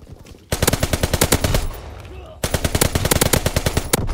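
Automatic gunfire in the video game Call of Duty WW2, two loud, rapid bursts of evenly spaced shots lasting over a second each with a short lull between, close and dominant over faint background game noise.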